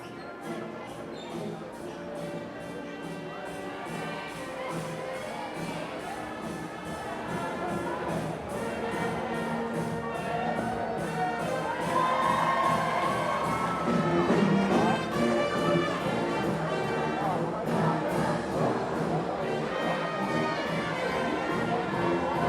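A marching band plays a song at a high school senior-night game while a large crowd sings along on cue, a steady wash of brass and voices that gradually swells louder.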